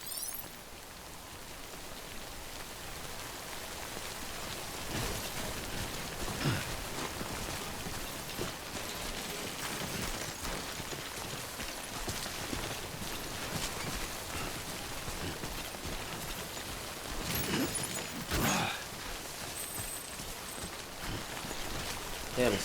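Steady rainfall in the video game Death Stranding, a continuous hiss of falling drops with occasional louder splashes, even and moderately quiet throughout.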